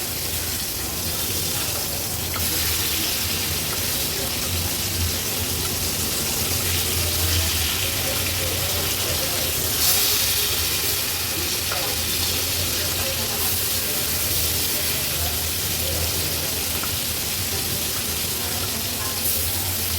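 Boita fish fry on a tawa with a loud, continuous close sizzle and hiss that stays steady throughout, with faint talking underneath.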